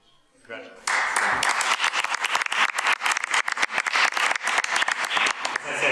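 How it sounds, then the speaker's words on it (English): A crowd at a school district board meeting breaks into sustained applause with some cheering, a dense, steady patter of many hands that starts abruptly after a brief quiet moment. "we do a lot of clapping and cheering here"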